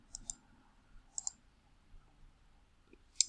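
Soft clicks from tapping buttons on a virtual calculator keypad, with a few isolated, faint taps spaced irregularly against near silence.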